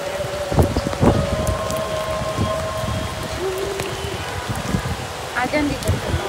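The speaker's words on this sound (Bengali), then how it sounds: "না এখন কিন্তু জোরে বৃষ্টি আসতেছে" Heavy rain pours down in a constant dense patter with occasional louder splashes, while people talk and laugh over it.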